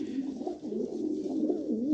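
A pair of pigeons coos softly and continuously, the low rolling calls rising and falling close by with no talking.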